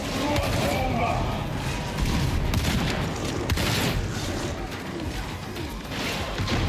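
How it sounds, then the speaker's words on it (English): A shotgun fires repeatedly in the sci-fi shooter Warframe, heavy crashing blasts mixed with chaotic battle noise and game voices, dense and continuous throughout. "I love this shotgun, man."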